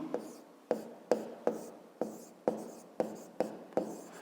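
A pen writes on paper during a fifth-grade maths exercise, giving close, quiet scratching strokes that start sharply about every half second and fade out across roughly nine repeated marks.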